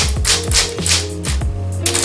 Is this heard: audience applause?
no